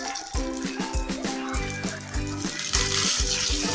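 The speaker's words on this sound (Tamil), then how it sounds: "எண்ணெய் நல்லா சூடாயிடுச்சு. கடுகு உளுத்தம் பருப்பு போட்டுக்கோங்க. கடுகு பொரியும் போதே" Mustard seeds and urad dal splutter and crackle in hot oil in a pan, a dense, near string of rapid pops and sizzling that carries on throughout.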